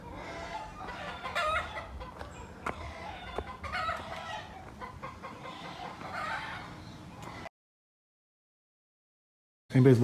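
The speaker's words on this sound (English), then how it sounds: "I've got my chicken fans or rooster fans in the background" Chickens and roosters clucking and crowing outdoors on a steep back path in Puerto Vallarta, fairly distant and persistent under ambient noise, with a sharp cut to silence before a brief loud burst at the end.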